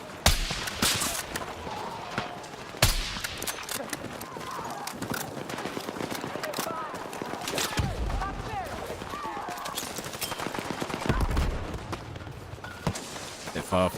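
Gunfire in the video game Battlefield 6, with scattered sharp shots and bursts across a busy battlefield, mixed with clattering hoofbeat-like sounds and a voice talking over the action.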